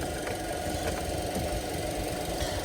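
A Proton X70 car engine idles with its hood open during a battery change, the weak battery having needed two attempts to start it; a steady, even mechanical hum and rattle runs unbroken at moderate level, with no talking.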